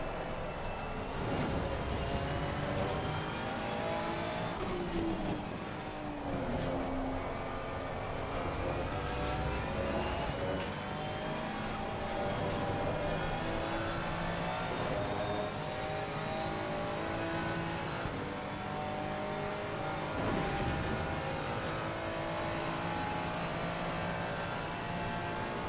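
A race car engine drones steadily at high revs around the Spa-Francorchamps circuit in a racing video game, with continuous loud engine whine rising and falling through gear changes and tire noise, without pause.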